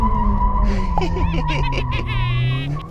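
A Mercedes-AMG A45 S sliding sideways, with loud sustained tire squeal and skidding chirps over a steady engine drone, close and continuous for about three seconds.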